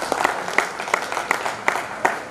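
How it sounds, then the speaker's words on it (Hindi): A crowd claps in unison to welcome a speaker at a gathering, giving loud, rhythmic applause with regular beats under a steady wash of hands. "जोरदार तालियों से मेरा स्वागत हो गया।"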